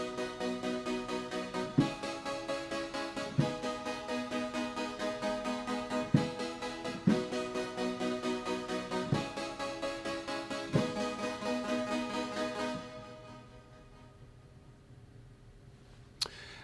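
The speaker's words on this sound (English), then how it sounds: "You can hear how it has a plucking sound, and the arpeggiator is set to 8th notes" Keyboard synth patch named Pulsing Saw, a plucky saw sound with the arpeggiator stepping in steady eighth notes over sustained chords, loud and alone, with periodic accents before the tail fades out near the end.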